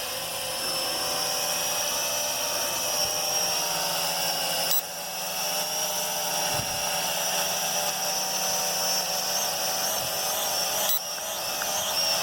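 A Venom Pro GPS streaming drone flying at a campsite, a close, loud, continuous high-pitched propeller whine with steady tones, one brief dip midway, with no talk.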